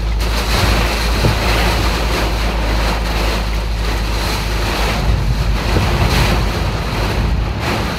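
Typhoon-strength wind and heavy rain batter the outside of a parked car during a sudden violent storm, making a loud, constant roaring wash with deep buffeting rumbles that never let up.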